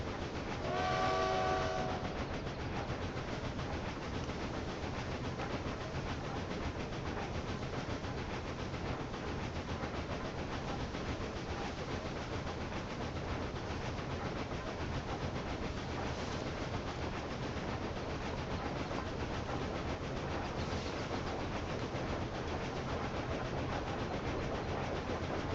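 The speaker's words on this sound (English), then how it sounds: "It's a train from Tutver." Train rolling along the tracks in the railway simulation game Railway Empire, a steady continuous rumble with a brief horn-like tone near the start, no talking.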